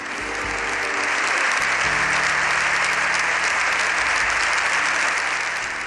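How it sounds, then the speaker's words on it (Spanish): Members of the Spanish Congress applaud Pope Leo XIV (Robert Prevost) in a dense, sustained ovation that fills the chamber at steady loudness from start to finish. "Antes, la primera ovación."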